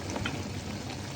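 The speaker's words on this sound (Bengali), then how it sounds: "এখন আমি ঢাকনাটা তুলে একটু নেড়ে চেড়ে দেবো।" Small fish curry being stirred in a pan after the lid is lifted, a brief quiet hiss of simmering with a couple of faint stirring scrapes, close and without talk.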